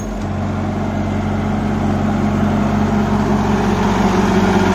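A Sonalika DI 35 tractor runs flat out at full throttle while driving a 7-foot rotavator in a field, producing a steady, loud, continuous diesel drone with no pauses.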